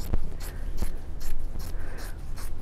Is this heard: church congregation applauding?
no